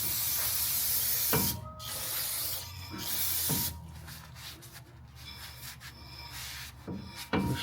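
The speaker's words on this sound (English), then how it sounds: "I'm just going to spray this off one last time with some brake clean" Brake cleaner sprayed onto car brakes in short hissing bursts, several separate sprays with pauses between, close by, mixed with faint rubbing and clicking of tools.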